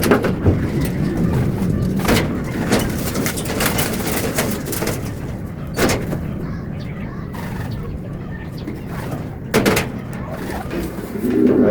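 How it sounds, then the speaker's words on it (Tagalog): Racing pigeons coo softly and repeatedly against a busy background murmur at a race finish, with a few sharp knocks and clatters in between. "Mga ibon live sa live sa Grand Puling."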